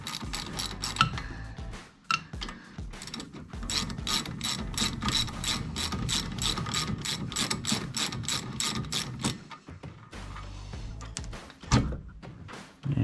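A ratchet wrench spins the nut off an outer tie rod on a Merkur XR4Ti steering rack, a fast regular clicking run lasting most of the clip, broken by a couple of metallic thunks, close and without talk.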